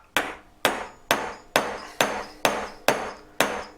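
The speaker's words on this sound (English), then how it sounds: "just hammer it flat." Eight sharp metallic hammer strikes flatten gallery wire at an even, steady pace, each ringing briefly before the next blow.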